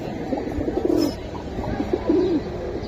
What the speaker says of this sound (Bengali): এইটা কবুতর